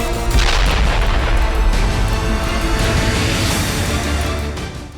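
Heavy Russian artillery fire and explosions from a wartime strike on Ukraine boom continuously and loudly, dense overlapping blasts rolling together with deep rumble throughout, fading slightly at the end.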